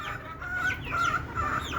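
Desi chickens being fed a mixed grain feed cluck steadily and fairly close by, several birds overlapping in short rhythmic calls with no talking.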